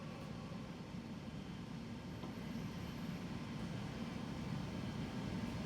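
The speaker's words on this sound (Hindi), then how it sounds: "हम देख सकते हैं कि वर्क हेड अभी बहुत स्पीड पे चल रहा है।" The work head of a TOS-Hostivar BHU-32A heavy-duty cylindrical grinder spins at high speed, giving a steady, faint mechanical whir and low hum that runs without pause.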